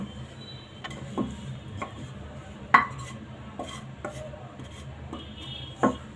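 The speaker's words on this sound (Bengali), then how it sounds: "আমি এখন পাটাতে বেটে নেব।" Gourd-leaf bhorta paste ground by hand on a stone slab shil-pata: close, intermittent scraping strokes with occasional sharper clacks of stone on stone, irregularly spaced over a quiet background.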